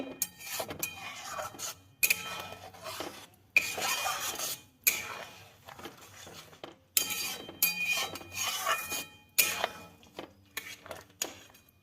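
Cauliflower payesh stirred in a pot, producing repeated bursts of metal spoon scraping and clinking against the pot, separated by short pauses, close and alone with no voices.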